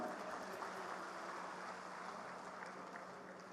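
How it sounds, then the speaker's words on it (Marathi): An audience at a political gathering in Pandharpur welcomes Devendra Fadnavis with steady, dense applause, fairly distant and even in level throughout. "आपण सगळेजण एकदा जोरदार टाळ्या वाजवून माननीय देवेंद्र फडणवीस साहेबांचं स्वागत करूया"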